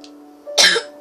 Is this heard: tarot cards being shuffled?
no